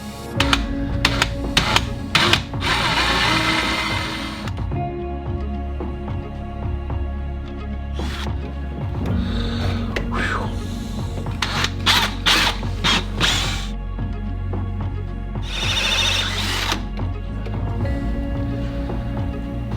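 A large 1 3/4 inch bit is drilled through built-out 2x6 wood studs inside a container home. Steady motor drone runs throughout, with grinding, ratcheting bursts as the bit bites and binds, loud and close, with no talk.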